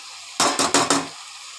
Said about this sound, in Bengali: মশলার সাথে চিংড়ি মাছের সাথে একসঙ্গে ভালো করে সোয়াবিন আলুটাকে কষিয়ে নেব।